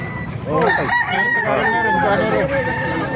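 Chickens and roosters crow and cluck at a busy chicken market in Baliuag, several birds calling over one another in a steady, loud chorus with other market noise beneath.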